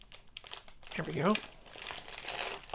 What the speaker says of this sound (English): Hats off to Midland for making packaging that doesn't require scissors to open any of it, or a knife.